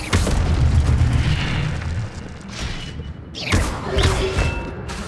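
An Incendio fire spell in Hogwarts Legacy bursts with a heavy booming whoosh of flame, followed by a second rumbling flare-up around the middle, all loud and close with no talking.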